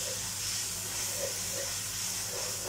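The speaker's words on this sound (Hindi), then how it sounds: "अदरक लहसुन को आपने अच्छी तरह भून लेना है" Ginger and garlic fry in a pan while cooking a Kalyachany dish, giving a steady close sizzling hiss with no voices.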